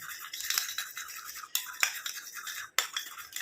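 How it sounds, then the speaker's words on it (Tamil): Coconut oil face cream paste mixed in a small bowl, a bright, brushy scraping in quick repeated strokes, close and soft, with brief pauses between bursts. "நல்லா மிக்ஸ் பண்ணணும்"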